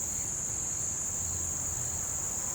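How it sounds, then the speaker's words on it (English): Steady high-pitched insect buzzing and chirring from cicadas and crickets, continuous and even throughout, with a faint low rumble underneath. "I'm listening to all the cicadas and crickets"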